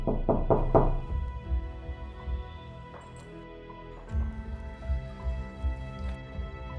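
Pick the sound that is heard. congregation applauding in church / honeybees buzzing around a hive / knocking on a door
knocking on a door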